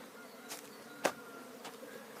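Honeybees flying around their hives during a spring cleansing flight, a faint steady buzz with a few brief louder passes as single bees fly close by.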